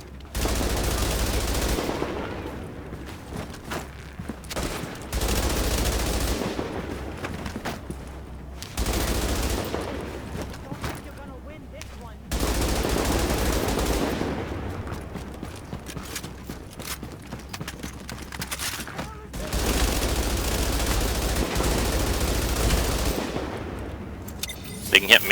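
Long bursts of automatic gunfire in a video game, loud, rapid rattling volleys that repeat in several stretches, separated by short quieter gaps.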